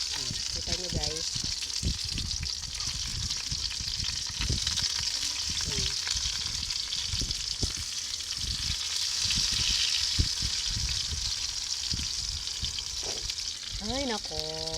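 Lumpiang kangkong, water spinach spring rolls, sizzle loudly in hot oil in a continuous crackling hiss, with occasional stirring clinks as someone talks over the frying.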